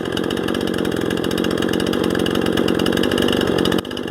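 A repaired Stihl MS 181 chainsaw engine runs at a steady, even speed, its loud, close buzz holding constant for about four seconds before dipping briefly at the end.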